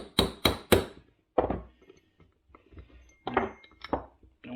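Three sharp metallic taps from a punch driving out a straight, non-tapered pin on a Honda Goldwing, followed after a pause by a few softer knocks and a second short burst of taps, close and loud with no talk.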